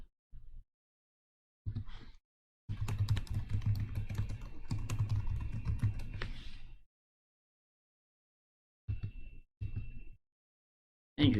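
Bursts of computer keyboard typing while a root password is entered, a dense run of close key clicks lasting a few seconds, then short scattered keystrokes separated by silence.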